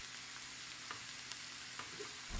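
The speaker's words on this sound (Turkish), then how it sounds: "Hafif karıştırıyorum." Minced meat with diced tomatoes sizzles steadily in a hot pan while a utensil scrapes and stirs through it, with no voices.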